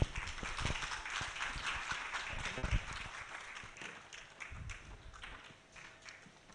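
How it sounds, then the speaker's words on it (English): Applause from an audience at a live-streamed community event, a broad dense patter of many hands clapping steadily for several seconds, moderately loud and continuous with a few sharper claps standing out. "I think it's high time we give her another round of applause"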